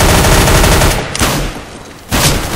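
Loud, rapid SMG gunfire in the video game CS:GO plays as a dense rattling burst, briefly easing before another volley starts.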